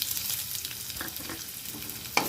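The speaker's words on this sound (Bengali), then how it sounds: "ছোট্ট একটা আলু কেটে নিয়েছিলাম, ওটাকে দিয়ে ভালো করে একটু ভেজে নেব।" A small cut potato frying in oil with black cumin and crushed garlic: a soft, even sizzle with a few light stirring scrapes and a brief sharper clink near the end.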